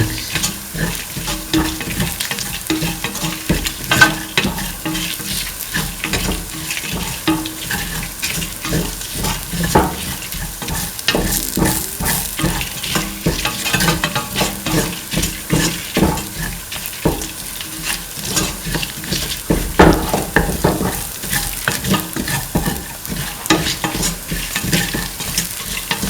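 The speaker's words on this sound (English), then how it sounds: "Put on saute and mix. Thoroughly mix." Duck chili sautéing in a hot pan, a steady loud sizzle broken by repeated scraping strokes of a spoon stirring the meat, continuous and close throughout.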